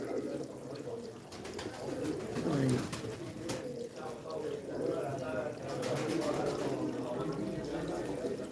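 Pigeons coo softly in low, rolling calls amid a busy background, with someone talking over them.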